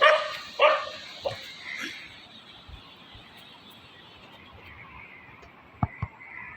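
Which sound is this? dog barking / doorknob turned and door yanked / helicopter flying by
dog barking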